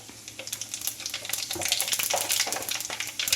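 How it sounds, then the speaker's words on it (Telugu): Mustard seeds and cumin crackle and sizzle in hot oil for a mango pickle tempering, a dense, close stream of rapid pops and spits that grows louder over a steady frying hiss. "నూనె వేడైన తర్వాత కొంచెం ఆవాలు ఒక స్పూన్ ఆవాలు ఒక స్పూను"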